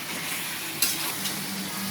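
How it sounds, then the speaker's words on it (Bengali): Continuous sizzling of chicken frying in oil until browned, with a sharp scrape or clink of a utensil partway through, followed by softer stirring sounds. "সুন্দর করে লাল লাল করে ভেজে নিতে হবে।"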